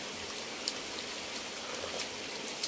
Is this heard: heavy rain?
yes